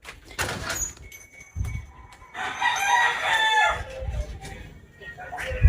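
A rooster crows loudly and close by, its drawn-out call rising over steady outdoor noise with a few faint clucks around it.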